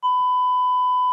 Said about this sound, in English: We'll beep it out so nobody knows.